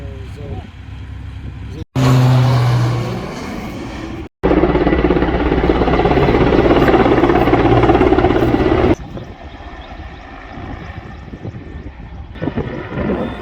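A loud, close firefighting helicopter roars with a steady rotor drone, cutting in and out abruptly between quieter stretches of background noise.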